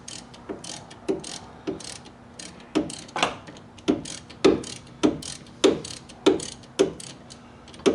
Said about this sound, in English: I need an air ratchet for something like this.